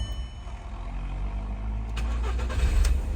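A Volkswagen Polo with a slow-starting, stalling problem being restarted after an oxygen sensor replacement: a steady low engine rumble that gets louder near the end as the engine catches and revs slightly.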